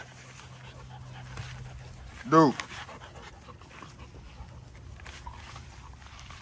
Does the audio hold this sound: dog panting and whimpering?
yes